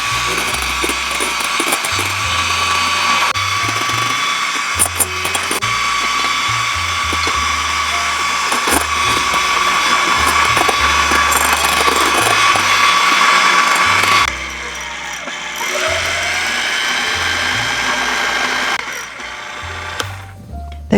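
An electric mixer whirring steadily as it beats egg whites into meringue for an omelette, a loud continuous high motor whine close by, with a brief dip in pitch and level near the end.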